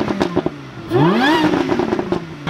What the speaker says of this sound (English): He's gonna rev it.